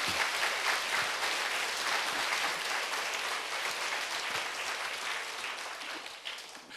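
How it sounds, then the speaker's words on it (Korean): Sustained applause from a church congregation at a Sunday service, dense clapping that fills the whole stretch at a steady level before easing slightly at the end. "자, 박수로 주님께 영광 돌립니다"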